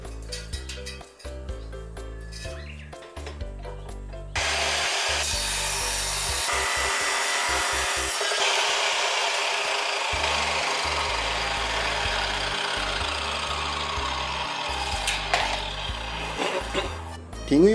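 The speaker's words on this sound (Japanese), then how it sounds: "高速カッターで切り出します。" A high-speed cutter slicing through stainless steel pipe, heard as a loud, sustained abrasive whine and grinding that starts abruptly a few seconds in and runs steadily before tapering off near the end.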